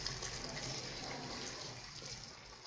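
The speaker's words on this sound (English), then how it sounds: "so now I'm going to pour my boiling water over it." A steady gush of boiling water pouring into a pot over oxtail, close and continuous, with a soft hiss throughout.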